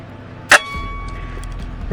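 A single sharp metallic clang rings out from a Falcon T50i+ air rifle shot striking a target, leaving a brief ringing tail, with no talking over it.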